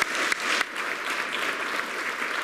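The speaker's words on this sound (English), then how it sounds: "Can we give Villagram also a round of applause?" A congregation at a Baptist church Easter Sunday service applauds a church member, a steady wash of many hands clapping together, moderately loud and continuous throughout.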